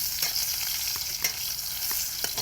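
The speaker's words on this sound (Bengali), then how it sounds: "আমি এই 3টে কাঁচা লঙ্কা দিয়ে দিলাম। দেখতেই পাচ্ছ, ভেজে নেব কাঁচা লঙ্কাটাকে।" Three slit green chillies fry in a hot pan, a dense close sizzle with several light scraping stir strokes at irregular intervals, no talking.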